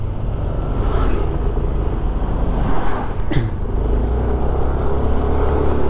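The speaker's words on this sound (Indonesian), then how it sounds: "Banyak mobil proyek keluar masuk di daerah sini." Vehicles, including construction trucks, drive past on a road in Canggu, Bali, a steady loud engine drone with a couple of closer passes and a brief horn-like blip in the middle.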